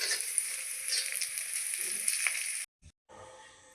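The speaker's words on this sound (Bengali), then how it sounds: "পেঁয়াজ, রসুন, লঙ্কা ভালো করে ভেজে নিয়েছি" Onion, garlic and chili fry in a pan with a close, bright sizzle and light stirring scrapes, cutting off abruptly near the end before a quieter, fainter sizzle returns.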